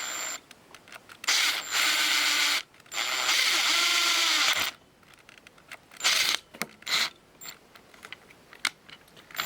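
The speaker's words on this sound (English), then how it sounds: "So we're gonna try to get this drill lined up here." A power drill bores through the housing of a Bernina 930 sewing machine foot control in bursts of loud whirring, with quieter clicks and handling noises between the runs.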